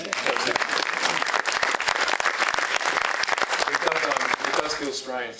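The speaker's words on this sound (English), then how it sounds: "You kind of feel you've got to give that a round of applause" An audience at an awards keynote gives a round of applause, dense, steady clapping from many hands that fades slightly at the end, with a voice heard over it.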